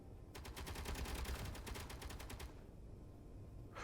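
Rapid automatic gunfire in the video game Space Engineers, a fast burst of evenly spaced shots firing at zombies for about two seconds, then a lull and the start of another burst.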